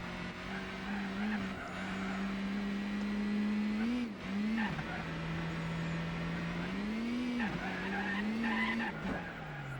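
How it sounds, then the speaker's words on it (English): A car braking and cornering in the video game Gran Turismo 4 on a street circuit: a steady engine drone with shifting pitch through the turns, tire squeal and skidding layered over it, continuous throughout. "braking early so I don't go straight into the wall"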